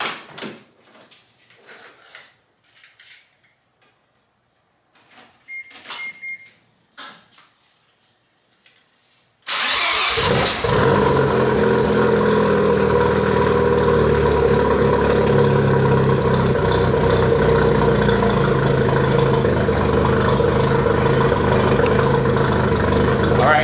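A Mazda FD RX-7 with a catless midpipe cranks and catches after quiet shuffling sounds, then settles into a loud, steady rumbling idle that continues to the end.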